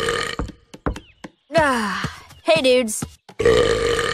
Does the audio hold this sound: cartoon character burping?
yes